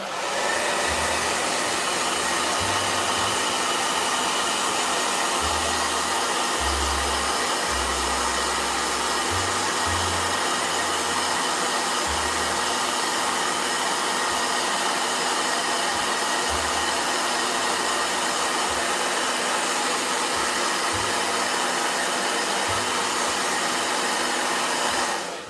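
A hair dryer blows continuously at full power, a steady loud whooshing hum with no pauses and no voices.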